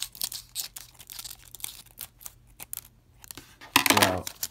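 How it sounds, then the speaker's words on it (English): Scissors snip and slice through the foil wrapper of a 2020-21 Upper Deck Series 2 hockey trading card pack, a series of quiet close cuts and crinkles ending in a louder tearing rustle. "me using the scissors and being so scared of cutting the card"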